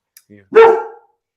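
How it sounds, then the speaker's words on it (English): A dog barks out there, one sharp loud bark preceded by a couple of faint short yips, then silence. "Someone else is barking out there first"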